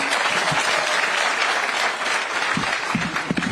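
An audience at a public gathering in Nairobi keeps up steady, close applause throughout, with a few sharper claps near the end.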